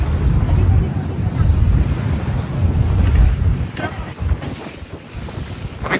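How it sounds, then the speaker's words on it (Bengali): Strong wind buffets the microphone on a ferry crossing to Toronto's Central Island, a loud, gusty rumble that swells and eases over the water without a break. "অনেক বাতাস হচ্ছে"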